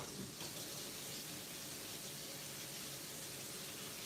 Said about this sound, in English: I gotta go wash this real quick